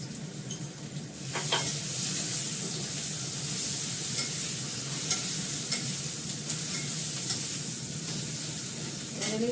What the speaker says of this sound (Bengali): এবারে পেঁয়াজটা আলুটা দিয়ে দিচ্ছি, কষিয়ে নেব।